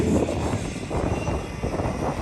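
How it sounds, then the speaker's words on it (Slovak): Helicopter at an air show in Kassa, its rotor and engine making a steady, loud broadband drone with a faint rhythmic pulse throughout, no voices. "vrtuľník je čudné zariadenie nášho leteckého prostredia, má rotujúcu nosnú plochu"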